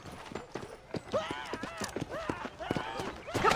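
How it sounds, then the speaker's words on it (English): Horse hooves clip-clop steadily in Red Dead Redemption, a run of near, moderately loud hoofbeats with in-game voices talking over them. "I picked out a fine horse"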